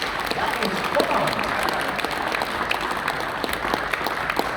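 Loud, dense audience applause for actor Julian Seager at Vienna Comic Con, sustained clapping throughout with some crowd noise and a voice mixed in.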